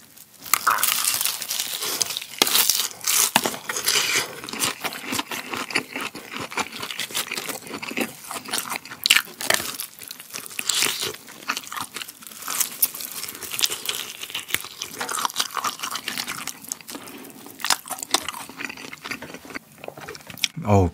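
Crunchy bites of fried and spicy-sweet sauced Korean chicken eaten close to the mic alongside beer, with dense crackling and crinkling crunches repeating steadily throughout.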